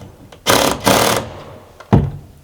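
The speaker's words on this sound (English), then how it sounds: "So now I'm just going to go around and just finish tightening up the bolts in turn" Power driver with raised torque tightening bolts on a window clamp during window fitting, heard as two loud whirring bursts close together followed by a shorter third burst, with quiet gaps between.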